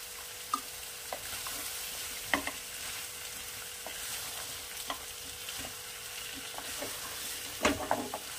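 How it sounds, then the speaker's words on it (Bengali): Raw pumpkin with dried shrimp is stirred in a hot frying pan, giving a constant sizzle overlaid by irregular spatula scrapes and light knocks against the pan, close up with no talking. "এটাকে একটু ভালো করে প্রথমে নাড়িয়ে নেব।"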